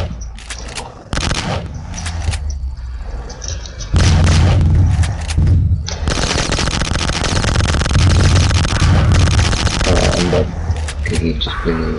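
Explosive barrels being shot and blowing up in the video game Box Head 2, loud rapid gunfire bursts and booming blasts layered over one another, nearly continuous and close.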